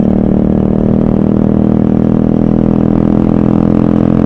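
A Honda Dio scooter fitted with a loud aftermarket exhaust revs and idles right by the microphone, a continuous throbbing engine note at constant high volume without any talk.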